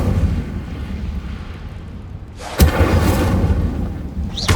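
An Incendio fire spell in Hogwarts Legacy goes off as a sudden loud whooshing blast midway through, following a low rumbling hum and then settling into a roaring burn.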